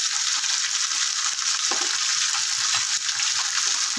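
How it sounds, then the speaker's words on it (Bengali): Spices, green chillies, chilli powder and ginger paste for a fish curry fry in hot oil in a pan, giving a loud, continuous close sizzle with a few soft stirring scrapes underneath. "দিয়ে এবার এটাকে ভালো করে কষাবো"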